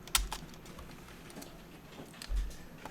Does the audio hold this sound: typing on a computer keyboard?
yes